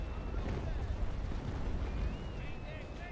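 Naval Action sea battle at Macao: broadband cannon fire booms continuously, a dense rumbling barrage of ship guns with no gap, loud and sustained under faint game tones.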